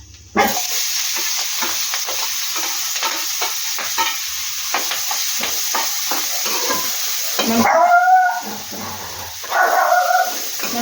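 Onions and green chillies frying in a pan for a tamarind-leaf curry, a continuous sizzle with frequent stirring scrapes, joined late by brief higher sounds that could be a dog.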